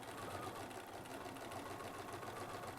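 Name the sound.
sewing machine stitching a quilt seam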